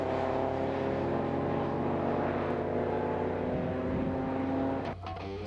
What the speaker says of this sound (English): Adrian Eddy is the next car through, from John Jacklin and Jamie Smith.